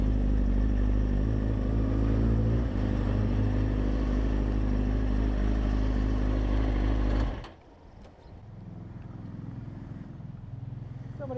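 A passing motorcycle by a lakeside roars loudly and steadily for about seven seconds, then drops off sharply to a faint, distant hum as it moves away.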